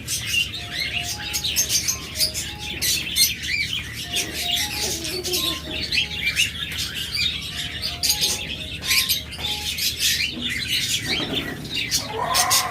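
Caged Java sparrows chirp nonstop at a bird shop, a dense chorus of quick, bright tweets and short calls layered over a steady low hum, continuous throughout.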